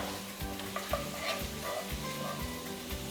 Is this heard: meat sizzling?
yes